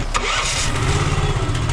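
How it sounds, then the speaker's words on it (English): A small pump engine, out of gas, sputters loudly and roughly up close on a North Dakota farm, cranking and struggling without settling into a steady run. "They ran out of gas in the little pump here, so they're trying to get this thing running."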